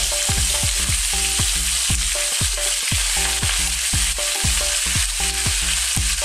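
Pork ribs fry and spatter in hot oil, a loud continuous sizzle broken by frequent sharp pops and crackles, with clinks of a utensil stirring the pan and no talking.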